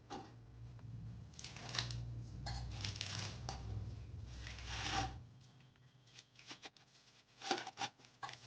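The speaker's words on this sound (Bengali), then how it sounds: "এবার আমি খোসাটা ছাড়িয়ে নেব।" Skin is peeled from a medium-sized palm fruit by hand in a home kitchen, making soft scraping and rasping rubs in irregular bursts, close and quiet, with no talking.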